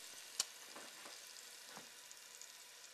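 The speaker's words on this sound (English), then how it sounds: "I hear them sizzling over here. They are sizzling, yeah." Quiet, steady sizzling of beef pieces frying in oil, with soft crackles and one brief sharp pop; no talking.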